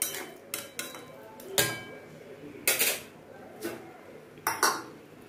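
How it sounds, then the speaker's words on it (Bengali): Clattering and clinking of metal cookware as a lid goes onto a pot of rice-and-banana-stem thor ghonto, several sharp knocks and scrapes at irregular intervals, close by. "এইবার এটাকে আমি সুন্দর করে ঢাকা দিয়ে কিছুক্ষণের জন্য রেখে দিচ্ছি।"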